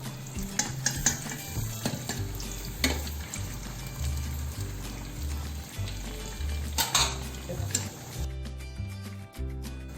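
Cheese bread frying in hot oil, with steady sizzling and bubbling and occasional clinks of a utensil against the pan, close and continuous.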